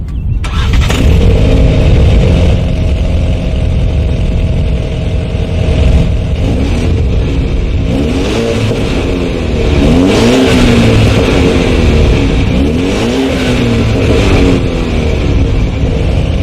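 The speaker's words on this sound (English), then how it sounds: "So as always, you guys, here is that exhaust clip." A 2017 BMW 530i engine starts up close and loud, settles into a throaty idle, then the dual-tip exhaust revs several times in rising and falling surges.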